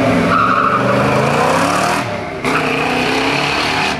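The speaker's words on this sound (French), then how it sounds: "le V8 a énormément de couples à bas régime, ça propulse la voiture" A V8 car at a run event launches hard, its engine roaring loud and close while tires squeal and skid throughout, with a brief dip in the noise midway before the howl resumes.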